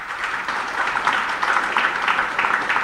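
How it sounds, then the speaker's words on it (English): Audience applause at a live annual dance function, a steady, dense patter of many hands clapping throughout, fairly loud and close, with no clear speech over it. "I'm sure we could give them a louder round of applause."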